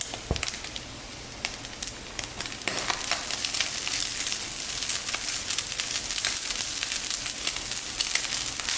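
Cooked rice is tipped into a hot pan of sizzling egg fried rice, and the steady frying hiss jumps louder and denser partway through as scattered crackles and pops continue.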